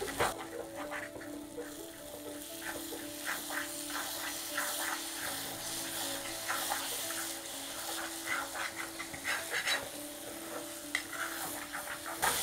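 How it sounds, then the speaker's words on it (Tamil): Egg thokku with tomato and chili powder gets stirred in a pan with a faint steady sizzle and soft scraping, quiet and continuous, with no voices. "இதை நல்லா அடி கொடுத்து இப்படி நல்லா கலந்து விடுங்க."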